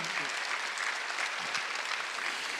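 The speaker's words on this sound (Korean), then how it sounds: "박수 한번 하세요." Congregation applauding during a Sunday church service, a steady, dense wash of many hands clapping together, continuous and fairly close throughout, with no talking over it.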